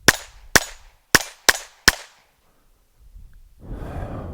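A Taurus TX22 pistol fires five sharp, loud shots in quick uneven succession, followed by a quiet pause and then a low rustle of handling noise.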